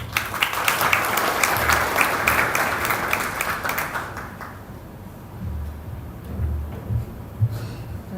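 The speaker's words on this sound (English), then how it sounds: "A round of applause for it." A conference audience gives a keynote speaker a round of applause, moderately loud and steady for about four seconds, then fading to quiet room noise with a few scattered claps.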